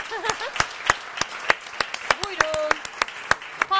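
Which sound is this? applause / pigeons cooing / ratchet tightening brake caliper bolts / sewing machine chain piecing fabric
applause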